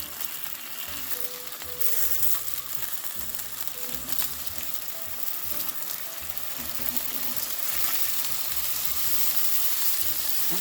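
Chicken burger patties sizzle and crackle steadily in a frying pan, a continuous close hiss with small pops that grows slightly louder near the end.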